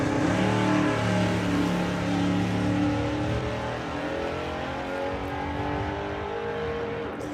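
A drag racing car at the NSRA Nostalgia Nationals 2024 roars loud and close, its engine revving hard as it accelerates down the strip. The steady harmonic howl climbs and then eases back into a rough, continuous drone.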